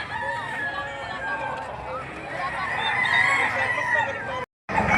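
Roosters crow amid a busy poultry market scene with geese honking and hens clucking, several calls overlapping across a dense background of voices, sound cutting out briefly near the end.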